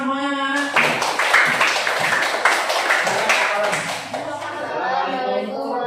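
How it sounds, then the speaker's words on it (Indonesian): Schoolchildren in a class clap together in a short burst of applause, a dense patter of many small hands starting abruptly and lasting a few seconds, with a voice and children's chatter around it. "Berikan tepuk tangan semuanya anak-anak."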